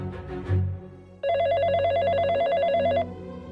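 After a brief rustle, a telephone rings loudly and alone for nearly two seconds with a rapid, trilling electronic bell pattern, then stops.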